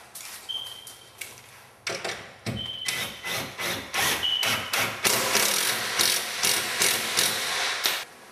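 Screw driven into a pilot hole in a wooden cabinet with a driver, heard as repeated ratcheting, whirring bursts of several seconds, close and fairly loud, with short pauses between runs and no talking.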